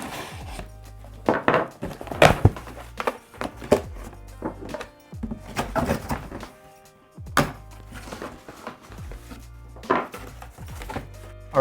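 A Gerber knife tearing into a cardboard shipping box, with repeated sharp thunks, scrapes and cardboard rips in irregular bursts, close and fairly loud with no talking.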